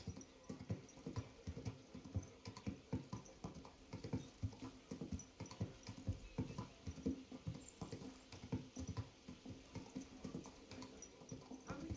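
Horse hooves clip-clop in a steady, continuous rhythm throughout, mid-distance and moderately loud, in the medieval Bohemian world of Kingdom Come: Deliverance II.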